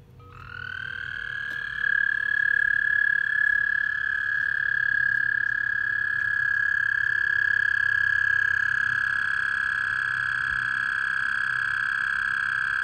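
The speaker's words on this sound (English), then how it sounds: "Toads." Toads calling from a garden pond in spring, a sustained loud trilling drone that starts within the first second and holds steady throughout, close to the microphone, with no talk.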